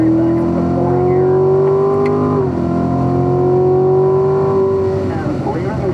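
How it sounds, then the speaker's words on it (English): Corvette Stingray with an automatic gearbox accelerating hard down a race track straight, a loud sustained engine drone rising in pitch, briefly dipping on an upshift, then climbing again, heard from inside the car. "Good, accelerate down the straight, back up to 4th gear."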